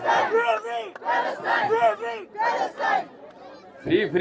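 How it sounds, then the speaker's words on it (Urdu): A crowd at a sit-in protest in Islamabad chants slogans in loud, rhythmic bursts with short pauses between calls, voices rising and falling together. "فری پاکستان کے نعرے لگائیں نا"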